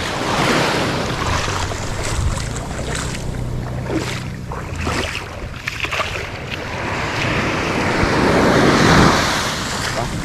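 Ocean waves rush and crash continuously at Blue Lagoon beach in Pagudpud, Philippines, with heavy wind buffeting the microphone, building to a louder surge near the end.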